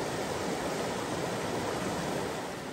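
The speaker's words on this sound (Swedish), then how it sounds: "Som ni ser här kommer det väldigt mycket vatten." A swollen stream running in high water, rushing steadily and loudly with dense broadband roar, close and continuous with no pauses or voices.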